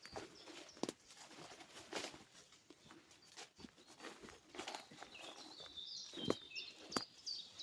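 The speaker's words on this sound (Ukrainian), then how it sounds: "Пташечки співають." Birds singing in a Ukrainian forest in spring, faint chirps and calls scattered among close rustling steps and handling noises, with a brief twittering phrase toward the end and no talk.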